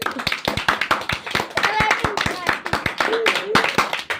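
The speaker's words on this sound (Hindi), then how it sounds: "ताली बजाओ इसके लिए।" Students in a physics class clap in a loose, uneven burst of sharp individual claps close by, mixed with children's chatter and voices throughout.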